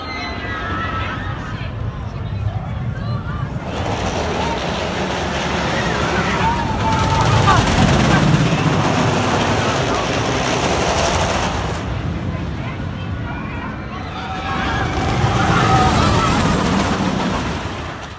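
Ride on El Toro, a wooden roller coaster with airtime hills: loud continuous rumbling and clattering of the train on wooden track, swelling and easing across the run, with rushing wind throughout.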